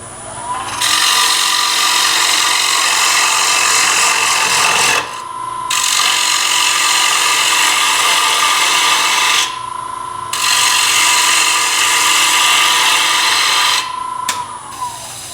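Bowl gouge cutting into a wooden bowl spinning on a lathe, a loud steady rasping shear in three long passes separated by brief pauses, with no talking.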